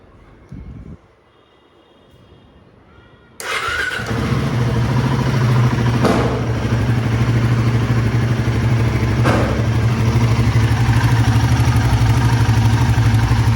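A motorcycle engine, freshly fitted with a new timing chain tensioner, cranks and fires on a cold start after a brief quiet stretch, then settles into a loud, steady, close idle.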